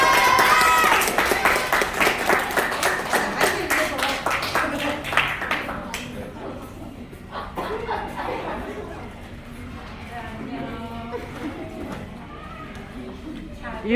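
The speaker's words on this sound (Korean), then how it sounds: "박수, 박수." Audience applause at a junior graduation ceremony: a burst of clapping rises at the start and thins into scattered claps beneath crowd chatter and talk.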